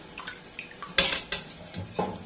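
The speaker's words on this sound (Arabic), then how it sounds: "الليمون في البرطمان على طول كده" Lemons going into a glass jar for quick pickling, heard as a handful of small clinks and knocks, one sharper hit near the middle, set against quiet kitchen background.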